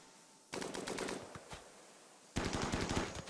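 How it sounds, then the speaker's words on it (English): Bursts of LMG machine gun fire from the game Rimworld rattle off in two rapid strings of shots, separated by a pause with a few scattered single shots. "The gun that this guy's using, LMG, is always such a good way to take out torsos."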